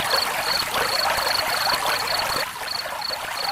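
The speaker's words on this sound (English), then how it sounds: "Gurgle, gurgle. The nearby creek still singing as it flowed over pebbles." A nearby creek flows steadily over pebbles in a continuous gurgling wash, with a faint, regular high chirping of crickets pulsing through the running water.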